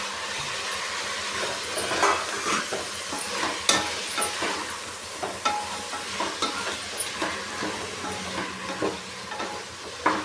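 Beans, carrot, chayote, brinjal and tomato fry in a pot for pulao while being stirred. A steady sizzle runs throughout, broken by irregular scraping and clacking strokes from the stirring, close and fairly loud.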